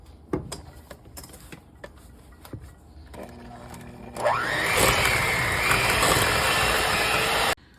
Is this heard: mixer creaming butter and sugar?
yes